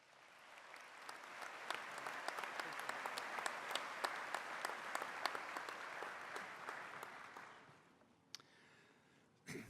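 Audience applause at SMU's 2017 baccalaureate service welcoming the Reverend Larry James, a dense, steady crowd clapping that holds for about eight seconds before quickly dying away.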